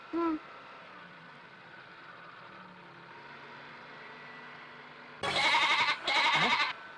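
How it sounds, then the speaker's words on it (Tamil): A goat gives two loud, close bleats near the end over a steady hum, after a brief sharp sound at the start. "என்னடா ஆடு கத்துற சத்தம் கேக்குது"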